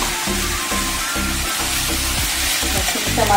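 Ghee sizzles in a pan while puffed-rice poha cooks, with a steady loud frying hiss and rhythmic stirring scrapes throughout.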